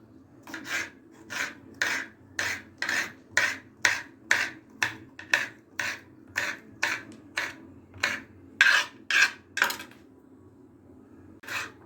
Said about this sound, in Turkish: bunları da bu şekilde doğrayacağız